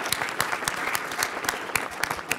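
An audience at an MIT energy pitch event in Boston applauds in a dense, steady patter of many hands, moderately loud and continuous, with no talk over it.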